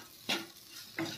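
Spices and amchur powder are stirred in a pan with two brief scraping strokes, about two-thirds of a second apart, over a soft background sizzle and close to the listener.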